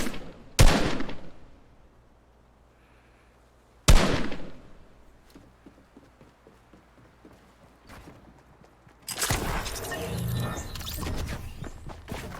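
Gunfire in a shooter video game: two sharp, loud single shots a few seconds apart, each ringing off, then a sustained burst of rapid fire, with faint game noises in between.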